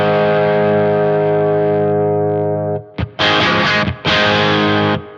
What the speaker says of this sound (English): But that certainly sounds like a Marshall.